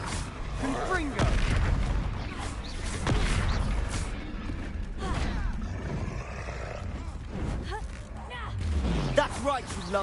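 Confringo blasting spell in Hogwarts Legacy, cast during a fight against a large lumbering enemy: several heavy booming blasts and crashes mixed with roars and grunts, loud and close, with voices speaking between the impacts.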